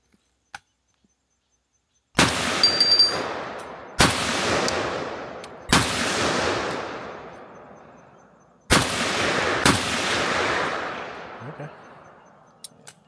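Five sharp rifle shots from a Century C39V2 fired outdoors on a test range, spaced unevenly with long echoing decays between them after a quiet opening.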